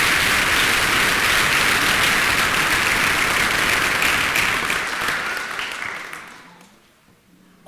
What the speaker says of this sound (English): Let's have a round of applause for our board.